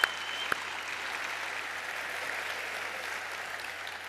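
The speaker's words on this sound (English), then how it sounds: "that was definitely worth the applause" Audience applause fills the room as a dense, steady wash of clapping. It opens with a couple of sharper claps, then holds at an even level throughout with no talking on top.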